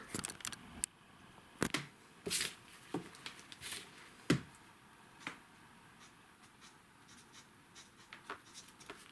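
A pen writes a grape variety name on a tag, giving short scratchy strokes and taps in irregular bursts, close and fairly faint against a quiet room.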